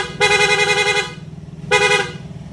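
Honda TMX 155 motorcycle horn sounds loud and close in two bursts, a long blast of nearly a second followed by a shorter one after a pause, with a low engine hum underneath.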